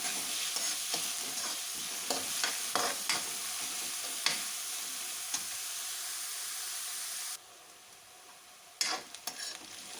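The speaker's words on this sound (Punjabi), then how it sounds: "ਪਿਆਜ਼ ਨੂੰ ਹੁਣ ਅਸੀਂ ਹਲਕਾ 골ਡਨ ਕਲਰ ਹੋਣ ਤੱਕ ਫਰਾਈ ਕਰਾਂਗੇ" Finely chopped onions frying in a pan until light golden, a steady close sizzle with occasional stirring clicks and scrapes; the hiss drops suddenly near the end, then bursts back up.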